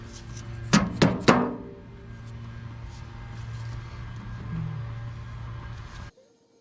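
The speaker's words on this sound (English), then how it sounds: "I'm gonna go grab a rubber mallet" A rubber mallet taps a Massey Ferguson 35 diesel tractor's fuel filter, three sharp knocks in quick succession close by, followed by a low steady hum and faint handling noises.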